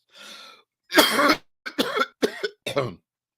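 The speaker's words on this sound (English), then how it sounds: "coughing fits" A close, loud coughing fit: an initial rasp followed by several harsh coughs in quick, uneven bursts with brief pauses between.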